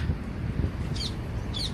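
Birds call in a city park among pigeons, giving two short high chirps over a steady background of outdoor ambience and low rumble.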